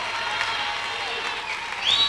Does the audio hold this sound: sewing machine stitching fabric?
no